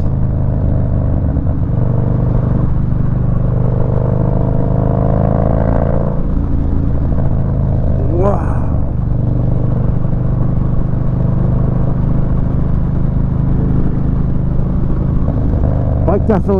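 A Harley-Davidson FXDB with a 103 engine and a Woods TW-222 cam, ridden on the road with a loud, steady engine drone and wind rush that swells briefly, heard up close.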